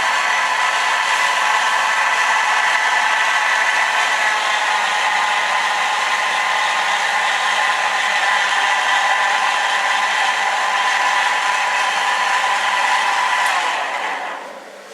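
A small electric motor runs with a steady high whir, loud and constant throughout, then quickly winds down as it is switched off at the very end.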